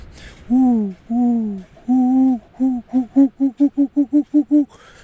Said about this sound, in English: Heard what I think is some kind of pigeon.